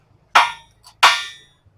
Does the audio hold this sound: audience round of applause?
no